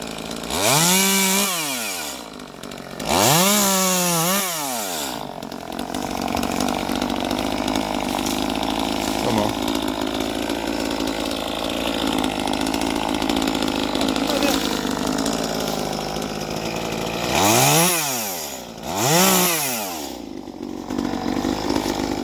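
A chainsaw prunes hazelnut tree branches in an orchard, running loud and steady throughout, with revving surges near the start and again near the end, while people talk over it.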